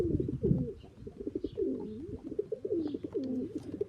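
Tippler pigeons, stock birds kept in a loft, coo in low, rolling, repeated calls that overlap steadily throughout, close by with faint chirps above.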